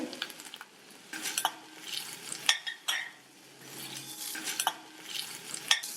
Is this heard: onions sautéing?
yes